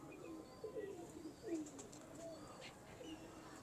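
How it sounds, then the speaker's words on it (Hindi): Pigeons give low, soft throaty coos, a few short rolling calls over a faint steady background hum, heard close but quietly. "कबूतर है।"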